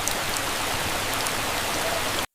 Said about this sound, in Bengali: ঢাকা শহর তো পুরো বৃষ্টিতে তলিয়ে গেছে